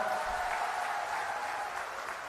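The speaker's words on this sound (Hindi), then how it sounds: "तो जोरदार ताली हमारे उम्मीदवार करण सिंह जी के लिए बजा दो एक बार" Brief burst of crowd clapping for candidate Karan Singh at an election rally, a fairly faint, diffuse wash of applause lasting a couple of seconds.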